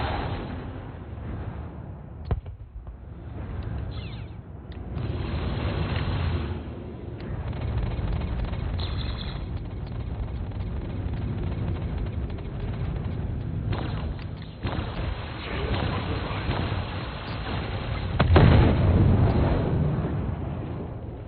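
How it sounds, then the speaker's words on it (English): Missile launches and explosions in the mech combat game Battletech, a continuous dense rumble of booms and blasts with a heavier thump near the end, loud and unbroken throughout with no talk. "Missile away. Missile away."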